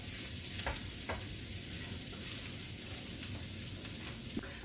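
Vegetables for a gumbo fry in a pan with a steady, even sizzle, close up, with a few faint clinks of stirring over the hiss.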